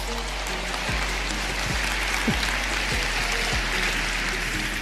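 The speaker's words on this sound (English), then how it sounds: "Let's clap it up for these guys." A crowd applauds steadily at a motivational talk, a thick continuous rush of clapping at close range, with a low hum and a few dull thumps underneath and no speech.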